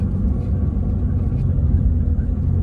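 A Nissan Pathfinder with a 2.5 litre turbo engine driving along, a steady low rumble from inside the vehicle, continuous and fairly loud.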